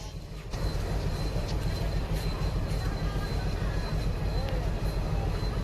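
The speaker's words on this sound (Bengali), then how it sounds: "তো এদিকে ট্রেন দাঁড়িয়ে আছে, এই ট্রেনটা ধরবো।" Low rumbling of a train at a station, a steady heavy drone with faint metallic squeals and clanks.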